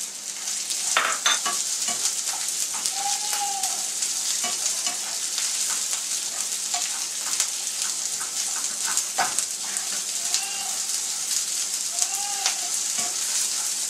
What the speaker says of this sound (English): We need to saute onions